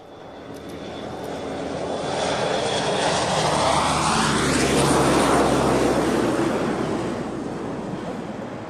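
A jet aircraft arriving at Cottesmore air base in 2000, a loud, broad engine roar that swells as it passes overhead and then fades, with a falling pitch sweep.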